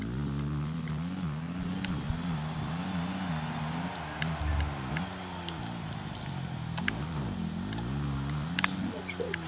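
A dirt bike engine in the video game Monster Energy Supercross 3 drones and revs steadily, its pitch rising and dipping as it shifts down a gear, loud and continuous throughout.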